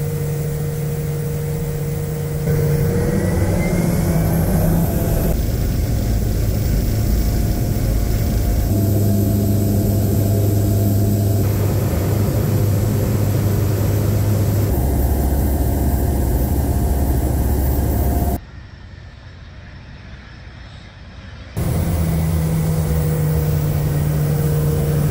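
Steady, loud engine drone inside a small floatplane in flight over Alaska's Katmai National Park, holding a constant level with a brief drop partway through before resuming.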